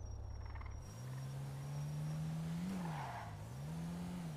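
A car in a video game drives along with a rising engine whine that climbs, then wavers up and down as it revs and shifts, with a tire-squeal-like chirp, loud and close with no talk.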